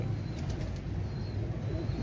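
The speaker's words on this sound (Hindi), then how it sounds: "ये हैं जुर्रे कबूतर" Jurra breeder pigeons on a rooftop coop give soft, low cooing with faint wing flutters, steady and fairly quiet throughout, with no voices.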